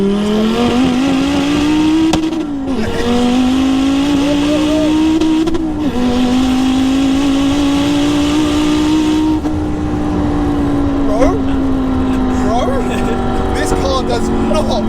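A 900 bhp Ford Focus ST pulls hard in second gear on high boost, its loud engine note climbing steadily with short shift dips, while occupants talk over the cabin roar.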